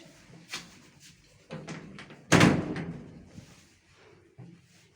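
An elevator door in an old Warsaw building is pulled shut with one sharp, fairly close thud midway, framed by softer rattles and knocks, while a voice speaks faintly nearby.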